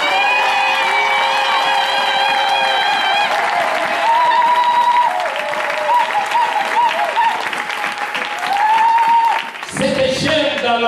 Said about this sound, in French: est-ce que quelqu'un peut acclamer pour ce Dieu?